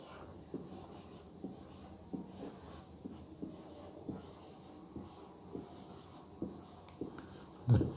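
A pen scratches across paper while an English sentence is being written, in a series of short, soft strokes and taps at close range, quiet apart from a louder knock at the end.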